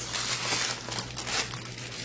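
Foil or paper sheet being crumpled by hand in a kitchen before it is laid flat for pork chops, close crinkling and rustling in quick uneven bursts, fairly soft, no voices.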